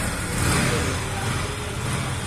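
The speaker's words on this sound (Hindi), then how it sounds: "अब जैसे ही मैं साइड स्टैंड को ऊपर करता हूँ बाइक स्टार्ट हो जाएगा।" A Yamaha MT 15 BS6 motorcycle engine runs close by, a steady, loud, dense mechanical drone with no pauses.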